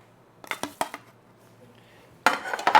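Ground pork for Thai nam prik ong, a spicy pork and tomato dip, goes into a pan, with a few sharp metallic clinks of utensil on cookware, a pause, then a louder burst of scraping and clatter.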